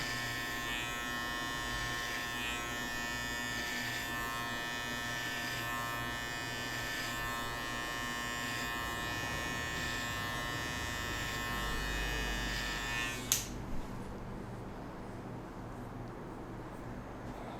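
An electric hair clipper cutting a flat top haircut, a steady close buzzing hum that runs continuously and then cuts off abruptly near the end, leaving a quiet room.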